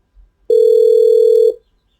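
A steady electronic tone sounds from a desk phone after a call is ended. It is loud and plain, holds for about one second and then cuts off, with no talk over it.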